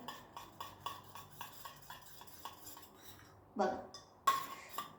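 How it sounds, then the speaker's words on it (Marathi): Two ingredients being mixed together in a bowl with a utensil, a regular series of light clinks and scrapes against the bowl, followed by two louder, rougher stirring scrapes near the end, close and without talk. "या दोन्हीही गोष्टींना मस्त पद्धतीने एकजीव करून घ्या"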